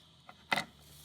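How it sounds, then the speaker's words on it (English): Scissors snip once through a strip of paper for an origami melon bookmark, a single brief crisp cut in an otherwise quiet room. "And then you cut it in half."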